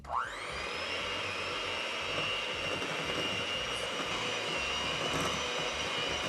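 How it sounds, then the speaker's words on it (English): An electric hand whisk creams granulated and light brown sugar for cookie dough, its motor rising to a steady, loud whirring drone that holds unbroken throughout. "Then grab your electric whisk and we're just gonna whisk it until it's nice and creamy."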